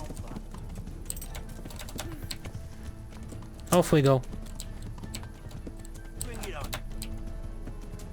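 Horse hooves clip-clopping in the medieval video game Kingdom Come: Deliverance, soft repeated hoofbeats running under a man's short spoken remark, with a brief louder burst of a whinny-like cry midway.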